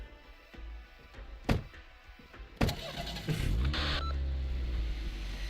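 Car sounds in the Arknights video game: a couple of sharp thunks like doors shutting, then an engine starting and settling into a steady low rumble with a brief higher whine, fairly close and with no talk.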